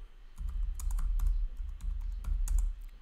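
Rapid, irregular keystrokes on a computer keyboard clatter up close, with clicks in quick bursts over a low background hum and no voices.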